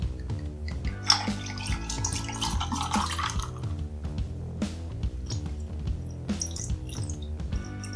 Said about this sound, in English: Then you just top it off with some orange juice